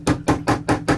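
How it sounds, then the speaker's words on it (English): A hammer taps a part into place on an E. Schmeckenbecher Eloper cuckoo clock under restoration: five quick, evenly spaced, close knocks within a second, with no talking. "I'm going to take a hammer, just"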